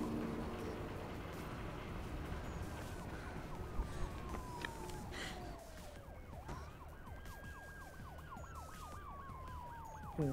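A police siren wails in the Mirror's Edge video game, rising and falling in long sweeps and then switching to a faster yelp, fairly faint and distant over a steady background roar.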